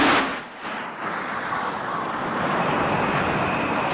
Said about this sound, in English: And here's a space shuttle landing.